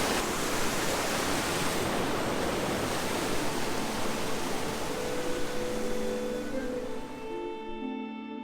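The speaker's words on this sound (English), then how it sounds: "Standing right on top of the waterfall here." A waterfall in Scotland, heard from right on top, gives a loud continuous rushing roar that eases and thins near the end.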